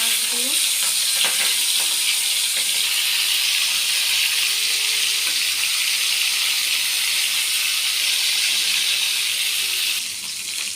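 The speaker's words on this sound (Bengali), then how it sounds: "আর পাশে আমি মাছগুলো ভেজে নেবো" Oil sizzles loudly and steadily as fish fry in a pan, a constant crackling hiss that eases slightly at the very end.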